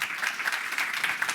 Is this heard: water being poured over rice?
no